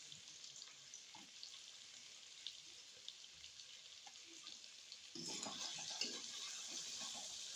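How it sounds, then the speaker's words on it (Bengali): Potatoes and spices frying in a pan give a quiet, steady sizzle with faint crackles, which swells noticeably louder and denser for the last couple of seconds. "এদিকে আলুটা আমার প্রায় ভাজা হয়ে গেছে, এখন আমি এক এক করে মশলা দিলাম"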